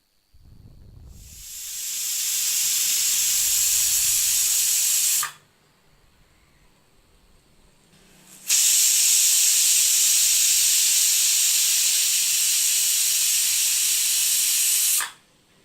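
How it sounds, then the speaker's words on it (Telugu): A pressure cooker on the stove, cooking rice, vents steam in two long, loud, steady hissing whistles that each last several seconds, with a short quiet gap between them. "స్టవ్ మీద పెట్టుకున్న కుక్కర్లో వేసుకొని తగిన వాటర్ పోసుకొని మూత పెట్టి 2 విజిల్స్ వచ్చే వరకు ఉడికించుకోవాలి."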